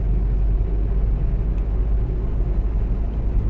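A small Maruti Suzuki Wagon R 2023 petrol car engine rumbles and strains as it accelerates, a steady low drone heard from inside the cabin without any talking.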